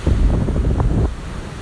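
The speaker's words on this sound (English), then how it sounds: "just like the ocean out there. Take a look." Ocean surf rolls in a steady, loud wash mixed with heavy wind buffeting the microphone, easing slightly near the end; no voices are heard.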